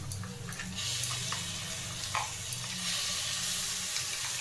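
Ground flat-bean paste added to fried onions in a pan, sizzling softly with a steady hiss and a few scattered pops and scraping stir sounds, fairly quiet and close.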